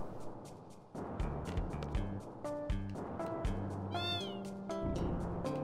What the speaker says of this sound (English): Oh, it meowed.